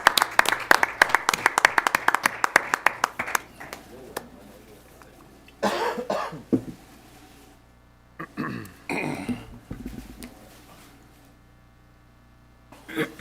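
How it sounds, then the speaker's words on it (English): Applause at a school board meeting, a brief burst of scattered clapping at the start that quickly dies away, followed by sparse coughs, throat clearing and intermittent voices in a quiet room. "Let's give them a big round of applause."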